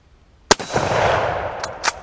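A single loud, close gunshot cracks at a steel target, followed by a lingering metallic clatter and ringing, then two quicker sharp impacts as the steel piece and a heater are struck.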